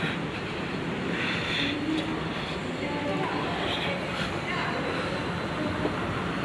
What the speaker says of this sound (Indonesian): Yah, kereta udah berangkat.